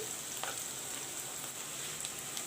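Onions frying in a pan until golden brown, a steady close hiss of sizzling with faint crackles and no voices.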